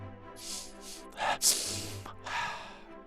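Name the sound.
sniffling nose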